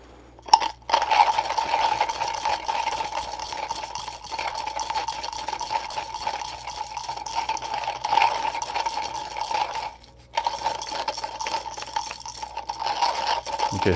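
A Comandante C40 Mk3 hand grinder with Nitro Blade burrs crunches through a small dose of coffee beans in a steady, continuous grinding rasp that pauses briefly before resuming.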